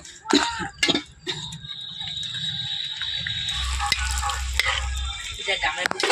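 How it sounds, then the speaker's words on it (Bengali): Fuchka (golgappa) puris dropped into hot oil to deep-fry: a few sharp clatters and a cough-like noise at first, then a steady close sizzle and bubbling that builds and continues to the end. "এখন হাতের মধ্যে এভাবে সাজিয়ে নিয়েছি এবারে তেলে ছেড়ে দেব"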